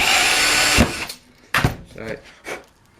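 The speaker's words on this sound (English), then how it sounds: "and just drill it like that." A power drill boring a hole, a loud steady whine lasting under a second that then cuts off, followed by a few short clunks and handling knocks.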